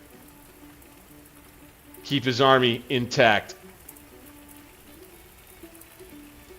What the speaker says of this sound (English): there's going to be a storm that rolls in behind us